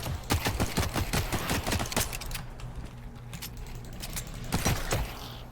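Rapid bursts of automatic gunfire from a shooter game, The Cycle: Frontier, crackling in quick volleys that thin out midway and then flare again briefly, loud and close with mechanical clicks between shots.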